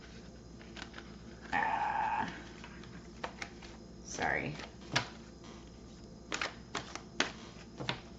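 A tarot card deck is shuffled in a short papery burst lasting under a second, followed by scattered light taps and handling clicks, with a brief spoken word nearby.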